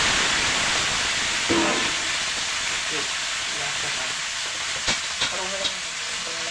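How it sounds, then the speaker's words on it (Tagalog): Freshly caught crabs and octopus sauté in a hot pan, a dense, continuous sizzle up close with a few faint clinks and stirring sounds on top. "Lulutin na natin. Kasi gigisa lang."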